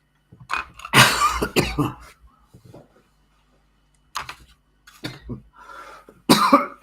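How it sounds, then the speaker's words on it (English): Several harsh, close coughs and throat-clearing bursts, a cluster near the start and more later, separated by silent gaps. "Look after that cough"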